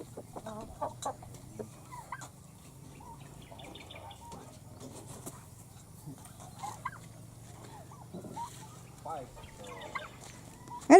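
Chickens cluck and call around a farm house in the Philippines in a steady scatter of close and distant clucks, with a rooster-like call among them, while people talk quietly in the background.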